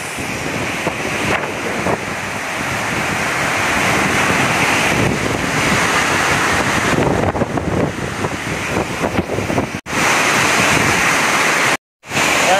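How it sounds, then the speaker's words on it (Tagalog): Heavy, continuous roar of typhoon wind and driving rain buffeting the microphone, loud and unbroken with brief dropouts near the end. "naririnig ko ba yung ulan at saka yung hangin, yung pagampas."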